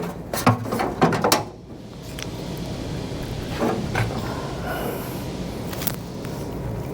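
A ratchet wrench clicks on 14 mm bolts during battery removal on a 2024 Mazda CX-90 mild hybrid, a few close sharp ratcheting bursts early on, then quieter clinks and handling noises.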